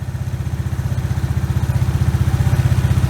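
A 1996 Suzuki Quad Runner engine runs close by with a steady, rapid thumping idle, its even pulses holding at constant loudness throughout.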